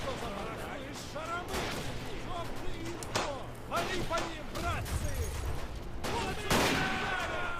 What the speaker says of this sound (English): Snipers firing away